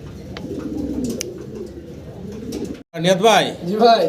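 Caged pigeons offered for sale coo in deep, throaty, rolling calls close by, with a brief pause before a louder burst of cooing, amid a busy background.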